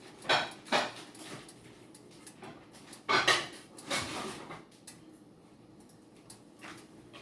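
Stoneware plates and bowls being handled and set down, several distinct clattering knocks in clusters, moderately close, with quiet pauses between.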